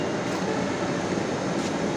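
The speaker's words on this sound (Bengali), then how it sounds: "আমাদের বাম দিকে সে কাঙ্ক্ষিত মেট্রো রেল অপেক্ষা করছে আমাদের জন্য" A Dhaka metro rail train waits at an elevated station, filling the space with a steady, broadband whoosh and hum that holds even throughout, close and loud, with no voices.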